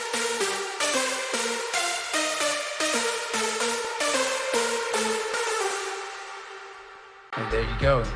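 Hardstyle synth lead with a stereo widener applied plays a loud, steady rhythm of bright, buzzy stabbed chords, then cuts to a short heavier hit at the end.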